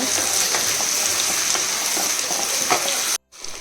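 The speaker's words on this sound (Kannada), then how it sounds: "ಈಗ ಟೊಮೆಟೊ ಕೂಡ ಚೆನ್ನಾಗಿ ಫ್ರೈ ಮಾಡ್ಕೊಳ್ಬೇಕು" Tomatoes fry in a pan with a steady, dense sizzle and crackle, close and even throughout before cutting off abruptly near the end.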